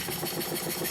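A Stuart 10V model steam engine runs on a wooden workbench that acts as a soundboard, giving a loud, steady mechanical whirr and rapid chattering with no pauses.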